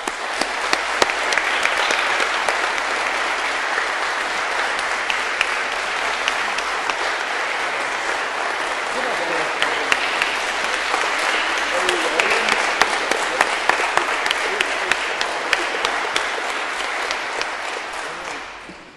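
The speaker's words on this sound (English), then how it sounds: "I would ask you to make the same noise for Matt" Sustained audience applause at a gathering, a dense steady roar of many hands clapping close by with a few cheers mixed in, lasting throughout.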